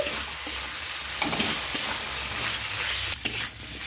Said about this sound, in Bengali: বাটি ধুয়ে জলটা দিয়ে দিচ্ছি। নেড়ে নিচ্ছি।